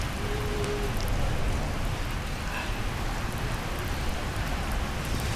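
Steady rain pours down in a dense, even hiss, a storm-driven downpour close by, continuous and alone with no voices.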